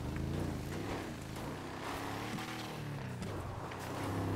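Steady engine drone of a motorbike ridden in GTA V, continuous and fairly quiet, mixed with wind-like rushing noise throughout.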